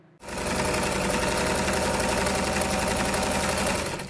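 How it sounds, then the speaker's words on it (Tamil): A sewing machine stitches a blouse in one steady, close, rapid whirring run of about four seconds that starts abruptly and stays even throughout. "இதில் நான் சிங்கிள் டாட் பிடிச்சி தான் அந்த ப்ளவுஸ் தைக்கிறேன்."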